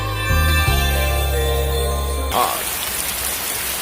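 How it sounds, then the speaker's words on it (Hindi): Steady heavy rain hisses across the whole band, loud and continuous, after a brief low tonal hum at the start. "आज बारिश बहुत तेज है।"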